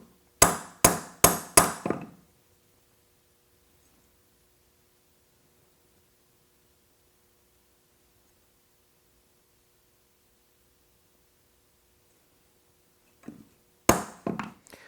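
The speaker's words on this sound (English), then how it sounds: "now I'm going to go to my straightening station and straighten it one last time" A hammer straightens a forged outdoor knife blade: five rapid, ringing strikes in quick succession, then a long silence, then another short cluster of close, loud blows.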